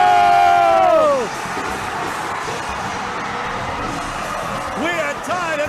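A volleyball crowd erupts in loud whoops and cheering during an overtime moment of a PSL President's Cup match, the roar peaking at first and then settling into sustained, dense crowd noise with shouts.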